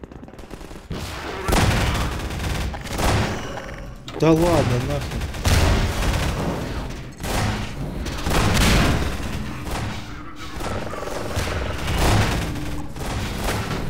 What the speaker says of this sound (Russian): Чё за стрельба там? С кем они воюют?